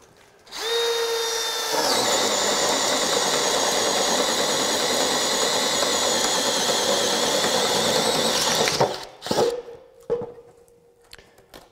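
A Craftsman V20 brushless 1/2-inch hammer drill driver spins up and drills loudly and steadily for about eight seconds, then stops, followed by a few brief clunks and rattles.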